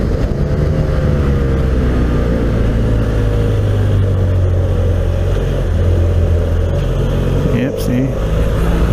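A motorcycle engine drones steadily as the rider works the throttle through a left-hand hairpin, with a low hum and rushing wind, and a voice talking over it.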